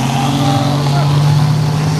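A Buick Grand National's 3.8 turbo engine drones loudly and steadily at a car show, a low sustained rumble with talk mixed in.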